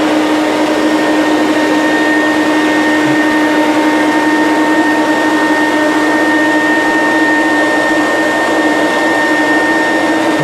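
Steady, loud vacuum cleaner drone from a hard floor tool sucking up debris such as flour or sugar on a floor, a constant whine with a strong hum held throughout without pauses.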